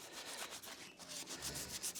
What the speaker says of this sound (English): we will just give them a quick wipe over with some denatured alcohol